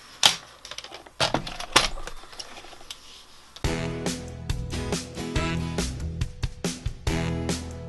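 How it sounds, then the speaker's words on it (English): Paper trimmer cutting the edges of an embossed paper card, giving a series of crisp clicks and snips, sparse at first, then denser rapid cutting strokes, close and fairly quiet. "So I'm going to trim off the edges."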